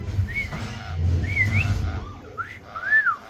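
A small pet bird gives a series of clear rising-and-falling wolf whistles, four bright slurred notes spaced across a few seconds, over low indoor background rumble.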